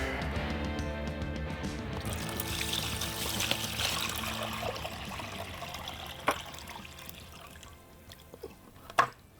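Water being run into an ordinary bucket as it fills, a steady broadband pour and trickle that carries on throughout, with a couple of brief clunks near the end.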